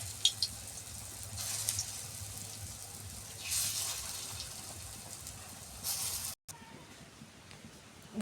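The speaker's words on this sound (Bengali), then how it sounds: "বড়াগুলো লাল লাল করে ভেজে নিয়েছি" Khesari lentil fritters fry in oil in a kadai, producing a faint, steady sizzle with a few louder hissing swells and a brief dropout near the end.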